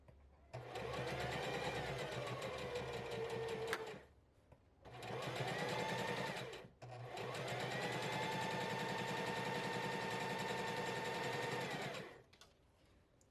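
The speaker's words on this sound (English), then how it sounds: "And I'm sewing at a 1/2 inch" A Singer 4452 sewing machine stitches in three fast, steady runs separated by short pauses, its rapid needle chatter close and loud with no talking.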